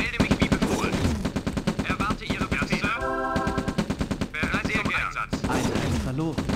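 Rapid machine-gun fire rattles in long, dense bursts in the strategy game Command & Conquer: Red Alert, loud and continuous, with short pauses between volleys.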